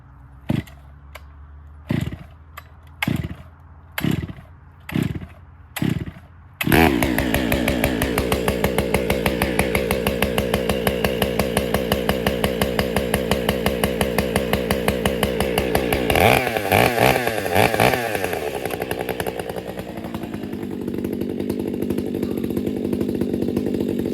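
A Stihl 661 chainsaw with a 32-inch bar and factory Stihl RS chain blips through several short revs, then roars at full throttle, cutting steadily through beech wood, loud and close before the pitch drops near the end.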